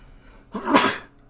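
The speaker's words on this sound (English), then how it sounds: "that's the sound of me sneezing." One sudden, close human sneeze bursts out loudly and fades within about half a second, alone against a quiet background.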